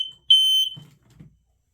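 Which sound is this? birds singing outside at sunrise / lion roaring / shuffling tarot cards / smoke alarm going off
smoke alarm going off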